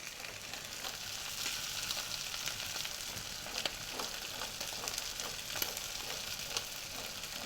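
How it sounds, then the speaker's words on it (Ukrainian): Peppers fry in a pan with a constant gentle sizzle and scattered small crackles and pops, steady and close, with no voices. "Тепер ми перевернемо наш перець. Ось він отак смажиться."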